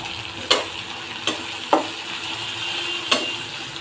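Tomatoes fry with loitta fish in a pan, giving a steady low sizzle broken by four sharp spoon or spatula knocks against the pan at uneven intervals.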